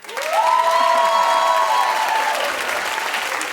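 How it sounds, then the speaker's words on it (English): A studio talk-show audience breaks into loud, sustained applause and cheering, a dense wash of clapping that holds strong throughout with a brief tonal cry near the start. "Clap if you just don't like him."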